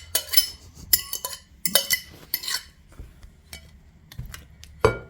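Spoon clinking and scraping in a bowl while stirring an aloe vera face remedy, a series of sharp close metallic taps and chinks in irregular bursts, alone with no speech.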